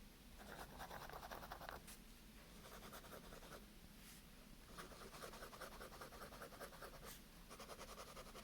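A Prasads fountain pen from India scratching across paper in bursts of steady strokes, with short pauses between words, close and quiet, no talking.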